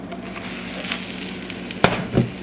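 A ground beef quesadilla sizzles steadily in a hot pan, with a soft scrape and a couple of sharp thuds as it is flipped near the end.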